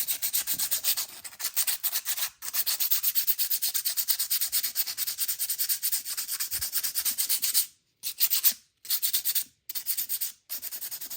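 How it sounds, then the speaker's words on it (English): A pocket bike clutch face is lightly scuffed with 220 grit sandpaper: steady, rapid back-and-forth rubbing strokes, close and continuous, broken by a few brief pauses. "take your 220 grit sandpaper and you're just gonna lightly scuff this back to new."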